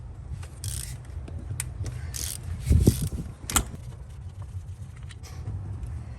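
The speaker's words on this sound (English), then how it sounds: "The final fastener we have to remove is this center 12mm bolt." A long 12mm center bolt is worked out of the valve cover of a Toyota/Lexus 5.7L 3UR-FE engine, giving quiet metallic clicks and ratcheting scrapes in irregular bursts, close by, with no talk.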